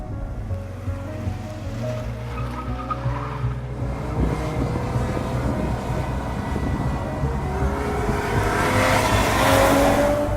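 An Aston Martin DB7 GT on the road gives a steady engine drone with rumbling tyre and wind roar that swells gradually louder toward the end, with no talk over it.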